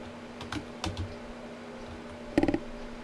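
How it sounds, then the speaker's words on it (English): Someone types a few keystrokes at a command prompt on a computer keyboard, with scattered single taps and then a quick close cluster of clicks, faint and without talk. "Now here we want to type in at the prompt"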